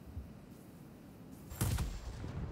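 A burst of aircraft cannon fire in the World of Warplanes flight game. A sudden loud rattling volley breaks through a steady engine drone about halfway in and keeps going to the end.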